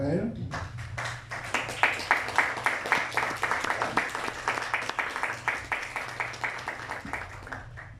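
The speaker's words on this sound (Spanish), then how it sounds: "Carlitos, por favor, fuerte las palmas para él." An audience at a conference on Creole music claps in a steady, rhythmic applause for the director, dense and fairly close, lasting several seconds.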